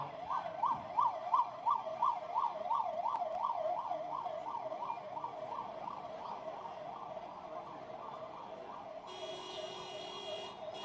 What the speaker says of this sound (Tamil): அண்ணா இந்த ஆம்புலன்ஸ் கொஞ்சம் அப்படியே வழிவிடுங்க எல்லாரும்.